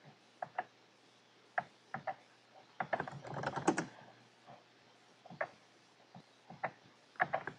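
Someone types a command on a computer keyboard at the command line: irregular light key clicks, with a short quick flurry of keystrokes partway through, close by and quiet, and no voices.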